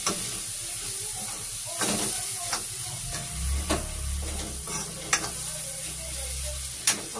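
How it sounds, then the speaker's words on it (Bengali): Food sizzles steadily in hot oil in a wok (kadai), a continuous hiss with occasional scraping knocks of a utensil and a low rumble beneath, fairly quiet and without talk. "খালি তেলের ভাজা হয়"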